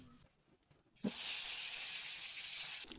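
Hilsa fish coated with turmeric and salt dropped into hot oil, bursting into a loud, steady sizzle and hiss that holds for about two seconds before easing.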